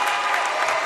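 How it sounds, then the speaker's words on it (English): Crowd applauding at a college basketball game in a historic gym, a brief steady wash of clapping and cheering with no clear gaps. "receiving some ovation from the crowd here in historic Tysinger"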